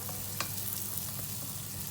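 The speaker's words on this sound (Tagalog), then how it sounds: "Igisa po natin yung bawang sa butter." Garlic and onion sautéing in butter in a pan, a steady soft sizzle with light stirring clicks, continuous and close.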